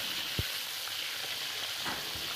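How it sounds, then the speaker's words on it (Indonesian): Salted biawan fish frying in hot oil until crispy, a steady close sizzle and crackle with a couple of soft knocks from stirring, no voices. "di tahap ini kita menggoreng ikan asin biawan sampai dia garing"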